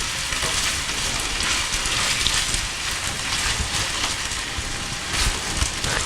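Onions, ginger and peppers frying in hot oil for a homemade samosa filling, giving a steady, close, rain-like crackle and sizzle that holds evenly throughout.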